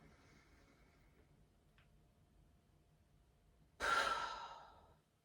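A slow inhale and exhale during a gentle yoga shoulder-lifting exercise, a faint intake of breath followed by one loud, airy sigh-like release that tails off.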